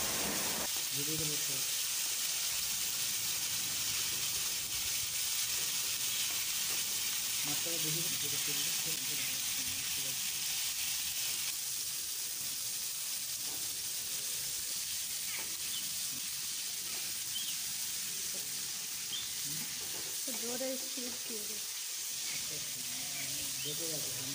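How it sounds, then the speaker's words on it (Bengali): Potato and eggplant pieces fry in a pan with a loud, continuous sizzling hiss that holds steady throughout, while brief voices murmur underneath at moments. "আলু আর বেগুনের পিসেসগুলো ভালো করে ফ্রাই করে নেওয়ার পর"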